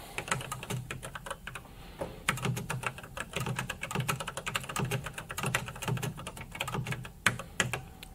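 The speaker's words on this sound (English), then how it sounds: "And so let's type something." Typing on a minicomputer keyboard, a steady run of close, crisp keystrokes in quick irregular rhythm for several seconds, with no voices.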